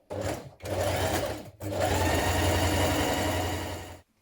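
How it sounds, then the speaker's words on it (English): A sewing machine runs loud and close while stitching a dress's underarm seams, in three bursts separated by brief pauses, the last and longest lasting over two seconds. "So we're going to stitch from the underarm down to the bottom of the hem."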